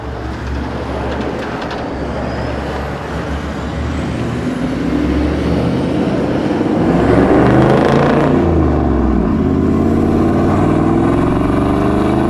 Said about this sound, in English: we couldn't finish the video without seeing Damo drive off in his 79 series